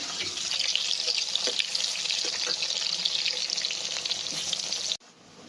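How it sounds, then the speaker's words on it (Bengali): Onions frying in a pan give a steady, loud sizzle with crackly texture throughout, cutting off abruptly near the end to a faint background hush; no one speaks. "এবার পেঁয়াজ মুড়ি ভাজতেছে"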